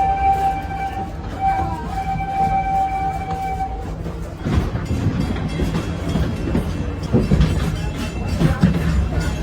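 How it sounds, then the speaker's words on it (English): Wildlife Express train at Disney's Animal Kingdom rolls along with a steady rumble and clatter of wheels on rails, a sustained whistle-like tone ringing over the first part before the rumble grows rougher and louder. "Time to ride the train."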